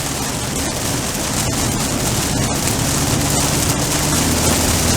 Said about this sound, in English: Can you hear it? The rain,